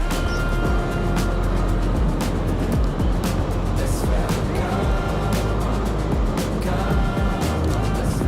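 A motorcycle rides along a country road past sunflower fields, its engine a steady close rumble mixed with heavy wind buffeting and rushing noise for the whole stretch.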